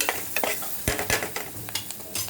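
Green chilies fry in oil in a pan while being stirred, a close crackling sizzle broken by repeated scraping stirs.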